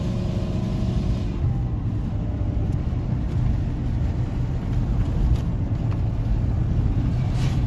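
An old shop truck engine idling steadily with a deep, continuous low rumble and faint mechanical rattle, close and unbroken throughout.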